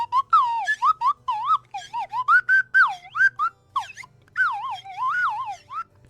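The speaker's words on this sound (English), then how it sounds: "Where else are you gonna get someone who can slide whistle like this?" A slide whistle is played in a quick string of swooping, wavering toots, rising and falling pitches in short bursts with brief gaps, loud and close with no talk.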